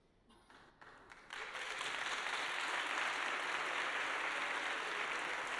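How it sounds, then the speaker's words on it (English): At an Armed Forces Day music evening, a few scattered claps quickly swell into broad, sustained applause from a large audience that holds steady to the end. "Don't clap."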